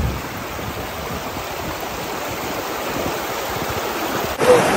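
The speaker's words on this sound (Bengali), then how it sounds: "দেখেছেন পানির প্রবাহ?" Hill river water from Meghalaya rushing over white stones at Bholaganj, Sylhet, a steady loud broadband roar of flowing stream heard alone throughout.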